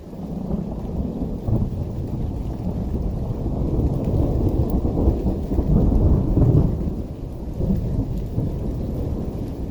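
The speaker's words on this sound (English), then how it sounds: "the thunderstorm continues on" A steady thunderstorm at a canoe campsite: heavy rain pours continuously while deep thunder rolls and swells, peaking midway before easing back to a low rumble.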